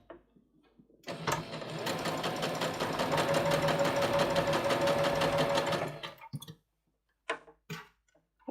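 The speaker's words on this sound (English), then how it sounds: "sew another row right next to that first row" A sewing machine stitching a gathering row in fabric runs steadily for about five seconds, a close, loud, even mechanical whir with rapid ticking, then stops, followed by a few faint handling clicks.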